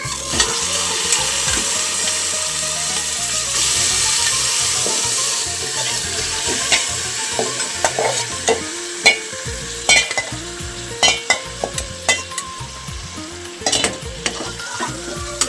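Loud steady sizzling of washed chicken frying in a spoonful of hot oil for a chicken curry, with clattering stirring and scraping sounds becoming more prominent toward the end.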